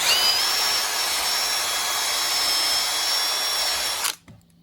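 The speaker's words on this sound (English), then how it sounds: "Wire brush, Scotch-Brite, and just this drill with the attachment." A power drill with a wire brush attachment whines steadily at high speed for about four seconds while cleaning a Toyota 3.4 V6 valve cover, then cuts off abruptly.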